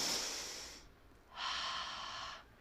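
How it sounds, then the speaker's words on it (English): A congregation at a church service takes a deep breath together: a long breathy inhale, a short pause, then a long exhale, soft and airy with no talking. "take a deep breath"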